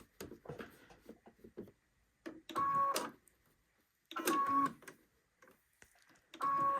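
A sewing machine putting a seam in a suit jacket sleeve, running in three short, loud, close bursts with quiet pauses between and light handling clicks in the gaps.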